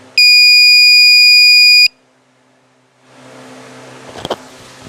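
A UPS unit under repair emits a single loud, steady electronic beep for about two seconds, then falls silent before a low hiss and a couple of faint clicks from handling.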